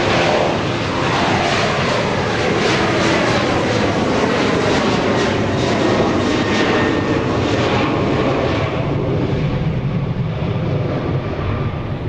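A Boeing 737-700 jet airliner at Dallas Love Field at night gives a loud, continuous, broad engine roar that stays close and steady throughout, slowly thinning at the top end toward the end.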